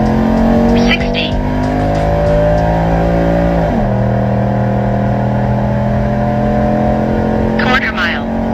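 A Whipple supercharged Ford F-150 pickup accelerating hard in second gear from 40 to 100, a loud, steady engine drone with rising pitch and a gear shift midway, heard from inside the truck with brief tire noise.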